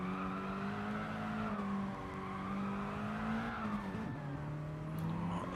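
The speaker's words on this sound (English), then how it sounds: "You can hear the tyres squealing through here." A Mini Cooper Cup race car on super soft qualifying tyres, cornering on the Tokyo South inner loop: a steady, loud engine drone with tyre squeal sliding in pitch. The squeal rises and falls across the corner and no voices are heard.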